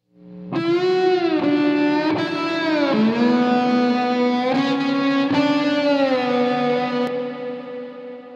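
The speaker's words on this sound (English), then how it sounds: "And if we want it to be even more lush, we go three springs." A sustained, distorted guitar-like tone swells through a lush three-spring reverb from the HoRNet SpringVerb plugin, notes sliding and ringing continuously with a wide, shimmering wash before fading out.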